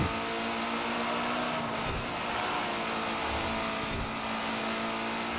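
A Toyota Celica GT-Four RC ST185 engine runs steadily in Forza Horizon 4, a loud continuous drone with tire noise in a racing game, with no gear breaks or pauses.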